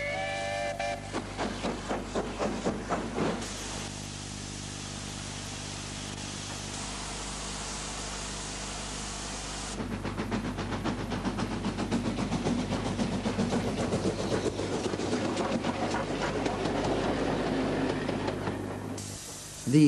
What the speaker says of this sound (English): The Hunslet Engine Company also designed a standard shunting engine for the War Department.